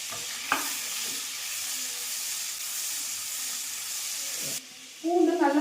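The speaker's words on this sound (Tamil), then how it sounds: "இப்போ ஒரு பூண்டு சைஸுக்கு பூண்டு கட் பண்ணி வச்சிருக்கோம் சேர்த்துக்கலாம்" Chopped garlic sizzles in melted butter in a pan for a white corn pasta. A steady frying hiss runs throughout with a few stirring knocks, dips briefly, then returns in a louder crackling burst.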